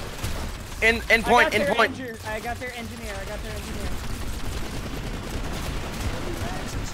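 Rapid automatic battle rifle gunfire in the online shooter PlanetSide 2, a burst of shots under excited players' voices shouting over the game sounds.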